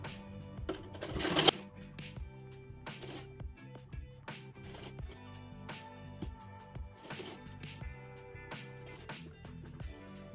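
A sewing machine stitches a tucked belt blouse sleeve in quick rhythmic bursts of mechanical clatter, close and fairly quiet, with brief pauses between runs.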